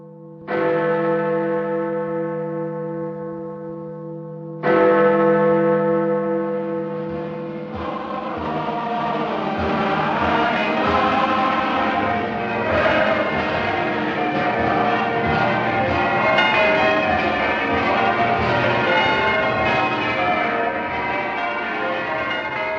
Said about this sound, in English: As the chimes of Big Ben rang out, the new year was greeted with an upsurge of hope.